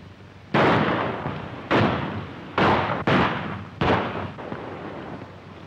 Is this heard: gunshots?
yes